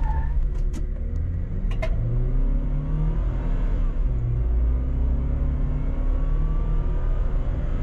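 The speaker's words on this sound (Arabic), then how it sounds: "تعال نشوف كم حنجيب من 0 ل 100 بالسيارة." A 2022 BAIC BJ40 SUV engine rumbles steadily as it accelerates hard from 0 to 100, a low continuous drone with rising road and wind noise and no talking.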